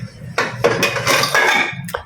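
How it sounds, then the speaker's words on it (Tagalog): Metal cookware clanks and clatters up close as a small kawali wok is pulled out in a home kitchen, several loud bangs and scrapes in quick succession. "Kuha tayo mo ng kawali."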